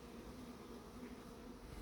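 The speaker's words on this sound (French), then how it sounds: "C'est confus, il y a trop d'abeilles." A low, steady drone of many bees buzzing around a hive at an apiary fills the air continuously, faint and diffuse, with no voices.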